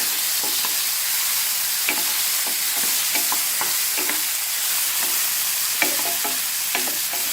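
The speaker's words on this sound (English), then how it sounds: "To the onions, we add green chili, chopped green chili, and then we add tomato, and just saute them for a while." Chopped onions, green chili and tomato sauté in a pan with a constant close sizzle, broken by regular scraping stirs every half second or so, and no talking.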